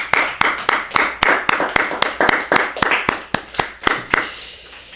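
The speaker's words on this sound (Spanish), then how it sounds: "Denme un aplauso a mi Señor." Applause from a church congregation, heard as a series of sharp, fairly regular claps mixed with a brief wash of clapping, close and moderately loud with no talking.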